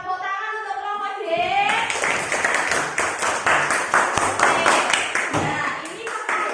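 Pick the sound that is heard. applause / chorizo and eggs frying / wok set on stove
applause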